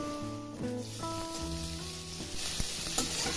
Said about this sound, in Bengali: এবার আমি আলুর সাথে এঁচোড়টা 1 থেকে 2 মিনিট সময় ধরে ভেজে নিব।